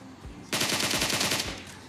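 Automatic gunfire in PUBG Mobile during a close solo-versus-squad fight in Pochinki: a loud, sharp burst of rapid shots that starts abruptly and hammers steadily for about a second before tapering off, with no talk over it.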